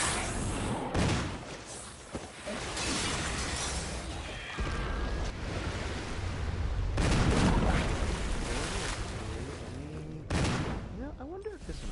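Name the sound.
video game gunshots, zombie and footsteps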